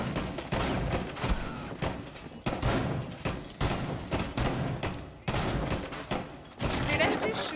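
Shotgun blasts in Rainbow Six Siege, a string of heavy booming shots spaced roughly a second apart, each followed by a short tail, with someone talking at times between them.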